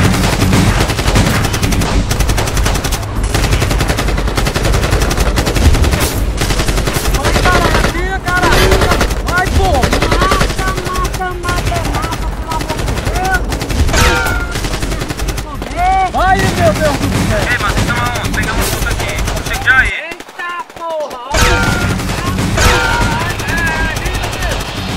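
Rapid gunfire bursts and single shots from a real-life Free Fire battle parody, played loud and continuous throughout, with agitated voices talking over the shooting and a brief drop-out near the end.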